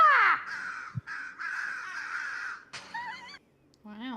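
A voice imitates crows, giving a few harsh, close caws in quick succession with short pauses between them.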